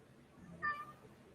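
A house cat gives a single short, faint meow over quiet background noise.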